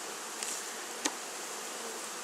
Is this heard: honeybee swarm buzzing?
yes